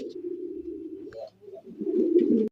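Pigeons coo at a pigeon farm, low throaty rolling calls in two close bursts with a short pause between, near and clear.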